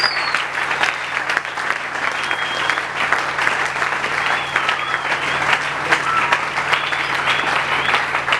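A church congregation applauds steadily and energetically, dense continuous clapping filling the room for several seconds, with faint voices mixed underneath.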